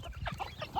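Chicks clucking and cheeping in a feeding area, several short bursts of close, lively clucks in quick succession.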